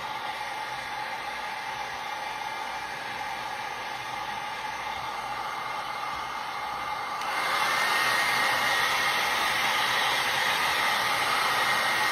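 A heat gun warms resin moulds coated in mica powder, a continuous airy roar that grows louder and brighter partway through as it comes closer, with no talk.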